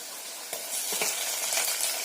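Chopped tomato dropped into browned onions frying in a pan, giving a close, bright sizzle with a few quick stirring scrapes, no voices.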